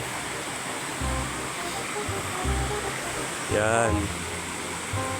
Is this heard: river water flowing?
yes